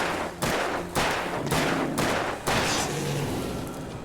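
Five heavy gunshots fire at a steady, roughly half-second rhythm in the video game Alan Wake Remastered, each a loud sharp crack with a booming tail, close and alone.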